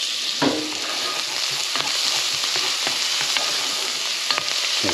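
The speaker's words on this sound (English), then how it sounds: "we just want to soften these onions here, to sweat them in this bacon fat" Onions sweat in bacon fat in a pan, a dense, continuous close sizzle with faint stirring ticks scattered through it. No one talks.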